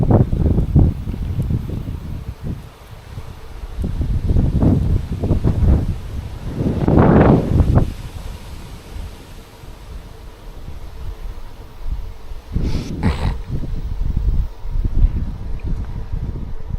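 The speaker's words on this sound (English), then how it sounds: "now it's already side wind, but not bad yet" Wind roars and buffets against the microphone while cycling on a busy road past a sunflower field, coming in loud gusty bursts with calmer stretches between them.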